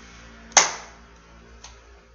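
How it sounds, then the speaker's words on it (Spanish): One crisp hand clap in a quiet room, sharp attack followed by a brief fading tail, with a faint second tap about a second later. "Si una palmada suena así"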